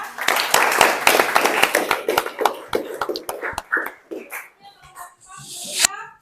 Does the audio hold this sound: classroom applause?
yes